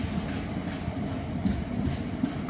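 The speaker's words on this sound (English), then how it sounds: "hauling open top ballast wagons" Class 66 diesel freight locomotive of DB hauling open-top coal wagons past a station, a steady close rumble with rolling wagon noise and faint rhythmic wheel clatter throughout.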